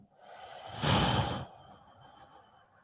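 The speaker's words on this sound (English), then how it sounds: "So we'll take a deep inhale together. Exhale, slowly release." A deep, slow breath during guided meditation, a soft airy inhale swelling into a long, breathy exhale heard up close, then fading back to quiet room tone.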